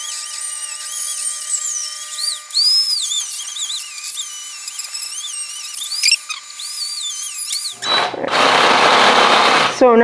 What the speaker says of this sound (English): So now to trim the ends of these bolts where we just cut the bolt head off of, we're just using an oversized drill bit.